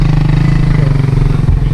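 A Kawasaki Z H2 motorcycle engine runs loud and close, a steady throbbing idle with a strong low pulse and no voices over it.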